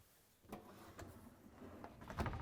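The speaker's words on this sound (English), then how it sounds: "And now we can close the door." Whirlpool dishwasher door being shut by hand, several soft clunks and latching knocks spaced out over a couple of seconds, quiet and close, with a final firmer thump.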